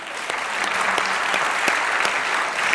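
An audience at a business event claps steadily and loudly, a thick continuous round of applause with a few distinct sharp claps punctuating it.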